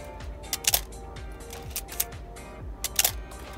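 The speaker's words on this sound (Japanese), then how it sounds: "シャッター音はね、こんな感じです。" A Minolta XD film camera fires its shutter several times, producing crisp, close mechanical clicks in quick pairs, spaced roughly a second apart, with no talking.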